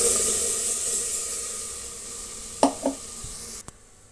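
Onions, curry leaves and spice masala frying in a pan for a village-style gorikayi bassaru, a steady close sizzle and hiss, then a few spoon knocks against the pan near the end as the sizzle drops away.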